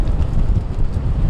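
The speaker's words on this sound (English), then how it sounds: "the wind, these gusts are certainly picking up" Gusty wind buffeting a microphone outdoors, a loud low rumbling roar that surges and dips unevenly without a break.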